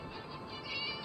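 A cat meows in the Scary Teacher video game, a short mid-pitched call heard over a steady bed of game background noise.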